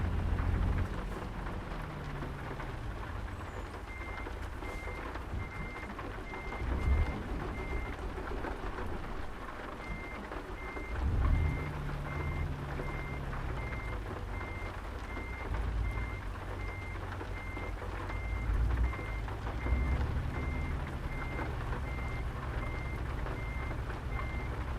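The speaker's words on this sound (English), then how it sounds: "I can't hear the engine over the rain" Steady rain and a rumbling truck engine in a racing video game, the engine pitch rising and falling in long sweeps beneath a continuous wash of rain, with a repeating high reversing-style beep tone running through much of the stretch.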